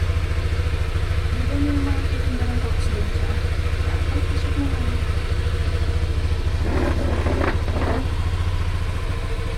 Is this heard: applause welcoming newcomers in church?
no